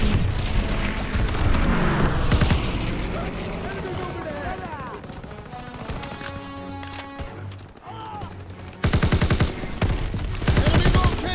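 Grenade blast and rattling gunfire from the Call of Duty WWII campaign, a dense, loud barrage of rapid shots and booms with a sharp burst near the end, voices shouting amid the firefight.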